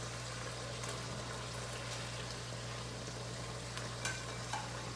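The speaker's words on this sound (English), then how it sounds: "And then you will add the tofu into it." Tofu goes into a hot wok for mapo tofu, setting off a steady close sizzle and frying hiss over a low constant hum, with a few faint clinks of stirring.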